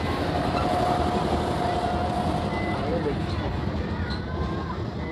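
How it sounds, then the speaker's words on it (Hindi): A train passes through IG Park in Rourkela, a loud, steady rumble filling the whole stretch with faint high whining tones drifting over it outdoors. "देख सकते हैं ट्रेन भी आ रही"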